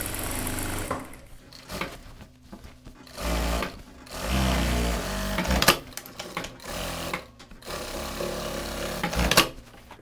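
A sewing machine topstitches along the yoke of a child's shirt, its motor running in several bursts of rapid stitching separated by short pauses and quiet handling sounds, close and moderately loud.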